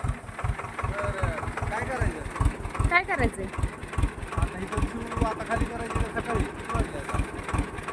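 A farm tractor engine idles close by with a steady, rapid low-pitched chugging pulse throughout, while people talk over it.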